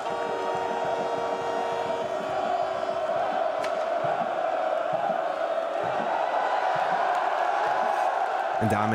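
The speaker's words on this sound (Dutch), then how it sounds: "Honderden supporters onthouden daar met vuurwerk en veel gezang de Ajaxiden" Ajax supporters sing loudly together outside the arena, a steady massed chant from a big crowd that carries through the whole stretch, fairly close and unbroken.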